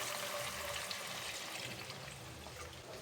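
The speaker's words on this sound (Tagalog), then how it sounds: "Ilagay na natin ang 4 to 5 cups na tubig." Water poured steadily into a pot while making chicken corn soup, a continuous, fairly quiet rushing splash that carries on evenly throughout with no talking.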